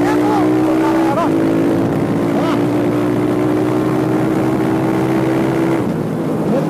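A Honda CB 300 motorcycle engine converted to run on methanol holds a steady, loud, close idle drone with a constant buzzing tone throughout, slight flutters in pitch and no speech.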